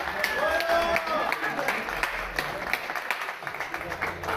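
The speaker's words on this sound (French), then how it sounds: "Ouais, vous pouvez l'applaudir." Concert audience clapping for the bassist at a live show, a steady mid-level patter of many hands with a voice talking over it.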